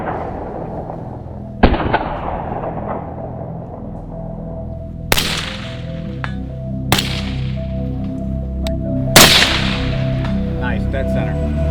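Four sharp gunshots ring out at an indoor or outdoor shooting range, spaced a few seconds apart, each with a loud crack and a decaying echo over a low steady hum.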